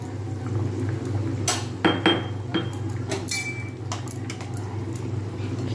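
Fish curry with crushed black pepper stirred in a pot, a spoon clinking and scraping against the rim in a few sharp strikes over a low bubbling simmer, close by with no talk.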